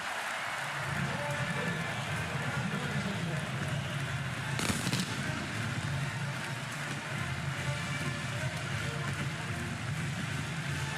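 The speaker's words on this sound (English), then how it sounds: "Fireworks at the Palace." Fireworks going off at a college football stadium after an Oklahoma Sooners touchdown against Illinois State, with a brief sharp burst over a steady roar of crowd noise.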